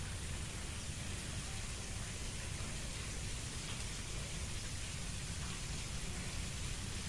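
Light drizzle falling outdoors at a lake during net fishing, a steady, even hiss of rain across the whole stretch, with no talk over it.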